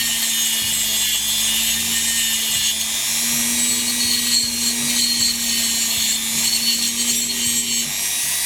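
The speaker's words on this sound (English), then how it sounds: "Just run the Dremel long ways up." A Dremel rotary tool grinds lengthwise along the rods of a German Black Forest quarter-hour cuckoo clock under restoration, making a continuous, fairly loud whining hum with a rough scraping texture that holds steady for several seconds.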